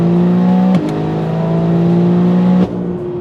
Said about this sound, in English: Let's have a couple revs.